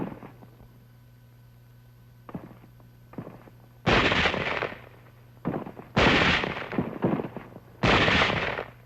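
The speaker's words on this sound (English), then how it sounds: "Elements of the 38th Division moving inland over rough hill country run into some sniper fire." Gunfire from WWII combat as troops of the 38th Division move inland over rough hill country in the Philippines under sniper fire: several loud, sharp shots and short bursts ring out at irregular intervals, with quieter gaps between them.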